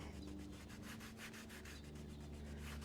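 A damp piece of denim rubs back and forth along a leather belt edge to burnish it, making fast, even, rhythmic scrubbing strokes, close and steady with no talk.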